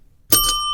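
A single bell is struck once, a bright metallic ding that rings on with a sustained clear tone, close and loud against a quiet background.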